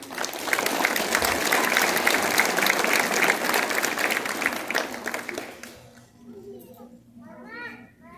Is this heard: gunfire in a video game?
no